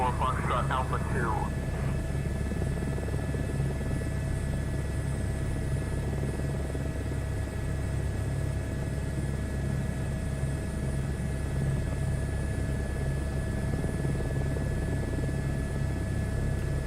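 Helicopter in a flight simulator game, a steady droning rotor and engine hum running throughout at even loudness, with a brief higher warble near the start.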